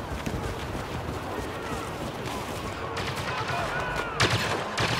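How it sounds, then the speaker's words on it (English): Turret fire in Star Wars Battlefront sounds as bursts of blaster shots over battle noise, growing louder with sharp volleys near the end. "Who's shooting at me? Oh, that must have been a turret."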